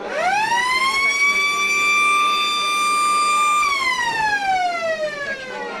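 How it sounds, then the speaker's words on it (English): A loud, sustained quarter-time siren at a football match wails at a single high pitch for several seconds, then slides downward as it winds down, heard alone. "The siren, no danger of missing that one up here this afternoon."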